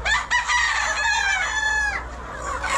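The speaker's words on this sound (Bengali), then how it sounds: "আর এগুলো বলে অষ্টলাভ মুরগি," Australorp chickens on a troubled poultry farm, where the birds have gone blind, give loud, close clucks and a drawn-out crowing call that fill the short stretch without any talk.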